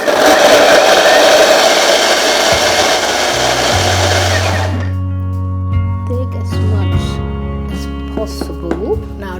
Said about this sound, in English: And then you blend it with the coconut milk.